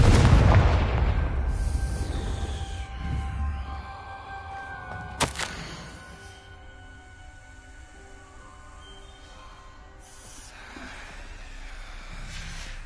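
Confringo fire spell from Hogwarts Legacy, a heavy booming blast up front with a sharp crack around five seconds, then a fading rumble under sustained musical tones.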